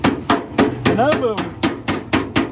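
Repeated hammer blows ring out during work on an abandoned Camaro burnout build, with about nine loud, sharp strikes at a steady pace. Someone speaks briefly partway through.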